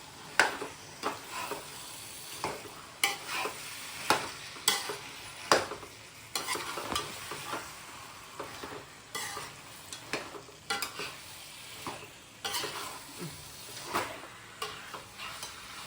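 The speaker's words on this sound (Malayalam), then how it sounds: "അതൊക്കെ ഒന്ന് ഇളക്കി സെറ്റായി വരട്ടെ" Chicken curry fries in a pan while a spoon stirs it, producing a continuous sizzle broken by frequent scraping strokes and clinks, close up, with no speech.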